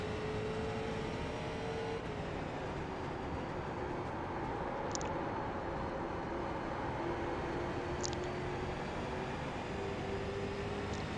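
Street stock race car engine in the iRacing simulator holding a steady droning note with slow pitch shifts and a few faint high chirps, running continuously with no talk.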